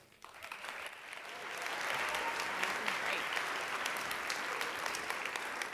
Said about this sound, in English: Please give a round of applause for Bianca Vasquez.